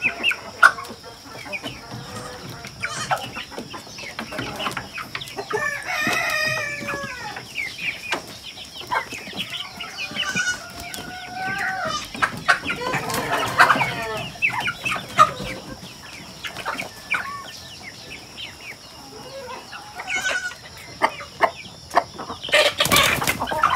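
Chickens on a provincial farm cluck steadily throughout, with a rooster's crow rising out of the flock and occasional wing flaps, close and moderately loud against faint outdoor background.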